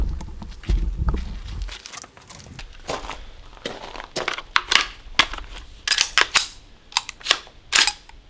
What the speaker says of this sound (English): Let's go ahead and shoot all 20 rounds and see how it works.